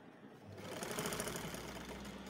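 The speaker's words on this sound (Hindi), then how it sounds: "अभी हम इसको सिलाई आधी इंच पैर की लगा रहे हैं" A sewing machine stitches a half-inch seam on a square kurti sleeve, starting up and then running in a steady, close, rapid whirring rhythm with no speech.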